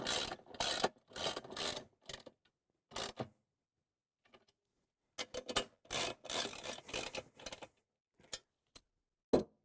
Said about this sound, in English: Now we can take our 1/2-inch socket and ratchet and tighten the bolts and the nuts.